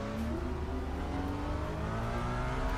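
Ferrari DTM race car engine in the video game RaceRoom, a loud, steady high-revving drone with rising harmonic whine, close and continuous with no talk.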